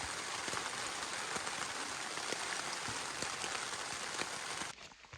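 Heavy, steady rain drumming on a taut fabric surface close by, dense patter with scattered louder drops, cutting off abruptly near the end.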